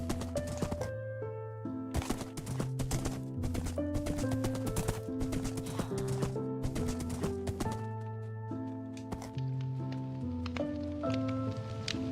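Rhythmic horse-hoof clip-clops in a farm-building video game patter along steadily beneath a prominent melodic background music track, the footfalls fairly close and continuous throughout.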